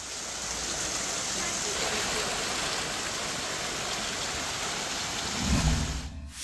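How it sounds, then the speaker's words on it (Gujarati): Rainwater running and flooding across a residential society road during heavy rain in Shehera, Panchmahal, Gujarat, a steady broad rushing wash throughout, with a louder low surge near the end. "સોસાયટીના રસ્તા ઉપર પાણી ફરી વળ્યા।"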